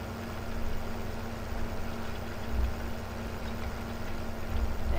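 Low, steady tractor engine hum from Farming Simulator 15 during night tillage, a faint droning idle with a constant tone and no talk.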